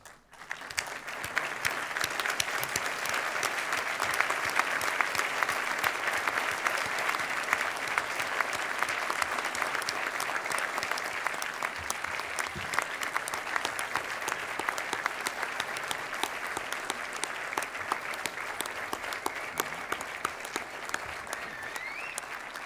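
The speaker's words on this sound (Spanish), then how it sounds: "poneos de pie y aplaudid, por favor, a las personas que os han estado aplaudiendo toda la tarde aquí" Audience at a university diploma ceremony standing and applauding, a long, even roar of many hands clapping that holds steady throughout, filling the hall.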